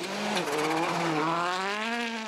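Rally car at Rally Sweden 2013 on a snowy stage with crests, tight corners and snowbanks, engine revving with rising and falling pitch, loud and continuous over a couple of seconds, no talk.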